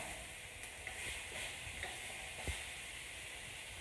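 A ribeye steak sizzles in a pan in a small apartment kitchen, a steady close hiss of frying fat with faint pops and crackles scattered throughout, quiet and without talk.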